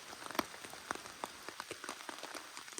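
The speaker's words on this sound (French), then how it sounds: "Il pleut de fou. Avec la pluie qui tombe sur le tarp." Heavy rain pelts a tarp shelter in a forest at night, a dense steady patter of close drops with sharper individual hits scattered through, no voices.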